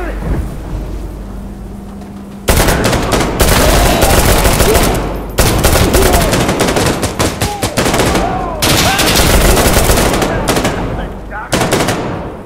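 Desert Tech MDR .308 rifle firing in the Insurgency Sandstorm video game, loud repeated bursts of gunfire with short gaps between volleys and booming battlefield noise.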